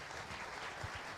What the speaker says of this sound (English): please give a big round of applause to our panel today